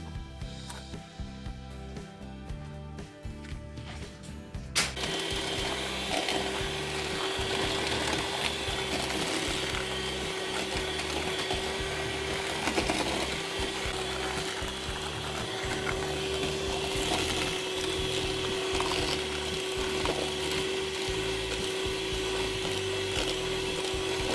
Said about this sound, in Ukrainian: І збиваємо наші жовтки, додаючи пів ложечки ванільного цукру